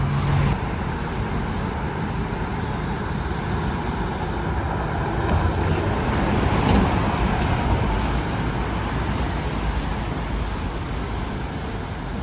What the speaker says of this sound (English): here comes a bus right now